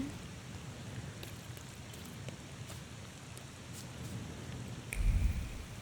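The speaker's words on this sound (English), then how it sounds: "Oh, it's raining now." Rain falls steadily in The Thaumaturge, an even close hiss with scattered droplet ticks, capped near the end by a brief low rumble.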